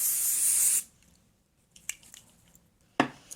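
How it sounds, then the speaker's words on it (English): Spray-on bronzer hisses onto a face in a loud burst lasting under a second, followed by quiet dabbing and a second short spray puff. "You just spray it on your face."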